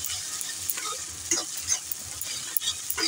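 Onion frying in hot oil with garlic, ginger and crushed cardamom in a pan, a steady close sizzle with scraping stirs and small pops scattered throughout.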